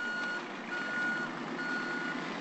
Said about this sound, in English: What is it? Monster truck!